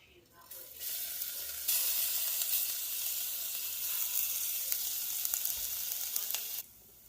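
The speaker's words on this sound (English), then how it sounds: "we're going to let it cook in the oil a little bit to get nice and aromatic" Spices and grated onion frying in hot oil for koshari sauce, a loud steady sizzle that holds close and even for several seconds before cutting off abruptly.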